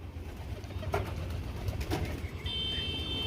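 Pigeons being fed scattered grain give soft, low cooing close by, a continuous murmur with a couple of brief sharper sounds, and no talking.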